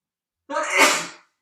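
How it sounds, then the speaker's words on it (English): A single loud sneeze close up, a quick breathy burst that swells and fades within a second, with silence before and after. "I think I'm going to sneeze."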